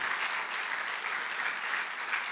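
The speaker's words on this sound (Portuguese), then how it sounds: "Dá uma salva de palmas para Jesus." A church congregation at Templo das Águas in Maracanã claps together in a dense, steady wash of applause that stays loud and even throughout, with no voices standing out.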